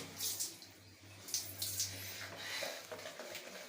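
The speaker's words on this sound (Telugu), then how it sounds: "వాటర్ తీసుకొని మీ హెయిర్ మీద పోసేసుకోండి మెల్లమెల్లగా" Water poured slowly over long hair during a hair wash, making a soft, steady splashing and trickling with brief louder spills, close by and without talk.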